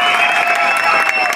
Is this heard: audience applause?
yes